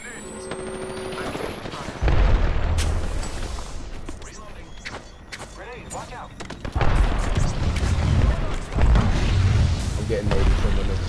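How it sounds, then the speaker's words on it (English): Grenades explode in the video game Apex Legends, with two heavy, deep booms that rumble for several seconds each amid gunfire and clattering, while voices talk over the action. "I'm getting nade from the left."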